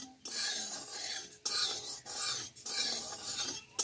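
Turmeric powder stirred into hot oil in a pan, a steady rasping scrape in three long strokes separated by short pauses, close and fairly quiet with no talking.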